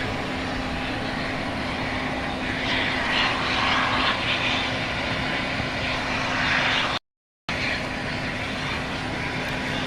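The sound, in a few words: Eastar Jet airliner at Gimpo International Airport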